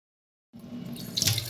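Running tap water pours steadily over lachha semai being washed in a sink, starting abruptly after a short silence and continuing close and moderately loud, with splashing rising toward the end.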